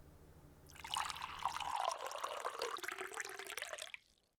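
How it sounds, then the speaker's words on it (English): Tea pours from a pot into a cup in a steady close liquid trickle lasting about three seconds, starting after a low hum fades and ending in a short drip. "Now, let me pour you a cup."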